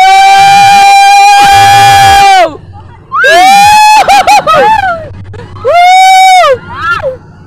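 Riders scream on an amusement ride: loud, long, piercing screams in several bursts separated by short pauses, mixed with shouted exclamations.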